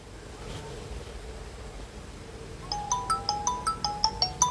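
A phone ringback tone while a call is being dialled: a quick series of short repeating electronic beeps starts partway through over a steady outdoor wind rumble, fairly close and clear.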